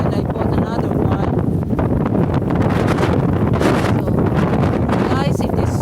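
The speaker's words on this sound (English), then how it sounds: "it is so windy" Strong wind on the Lake Huron shore at Tawas City, a steady, loud roar buffeting the microphone throughout with no letup.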